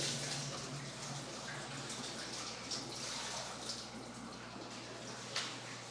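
Water from a hose runs into large aquarium fish tanks during a fish room expansion with 125 gallon tanks, a faint steady pouring wash with low hum beneath and no speech.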